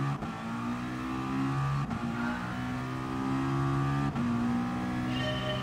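A McLaren race car in Gran Turismo Sport revs and accelerates steadily through its gears on the Dragon Trail circuit in Croatia, the engine tone climbing in repeated rising sweeps with brief dips at each shift, loud and close with no talking.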